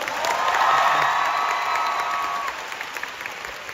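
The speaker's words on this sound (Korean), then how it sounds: "수많은 시간과 노력을 들여서 완성해야 하는 우리 발레 무용수를 위해서 박수 한 번 해주실까요?" An audience in a Korean stage show applauds and cheers for ballet dancers, a dense wash of clapping with whoops, loud at first and thinning slightly toward the end.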